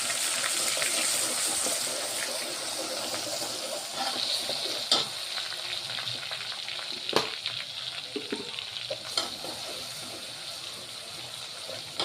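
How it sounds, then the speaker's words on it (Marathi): Ginger garlic paste and two bay leaves frying in hot oil in a pan for an Indian vegetable dish, a steady close sizzle throughout with occasional spatula clicks and scrapes. "तेल गरम झालेलं आहे. 2 तेजपान टाकलेले आहे आणि अद्रक लसूणचा पेस्ट"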